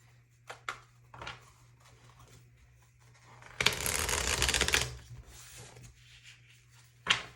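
Tarot cards being shuffled: a dense burst of papery riffling lasting about a second, close and fairly loud, set between a few soft handling taps and light card clicks in a quiet room.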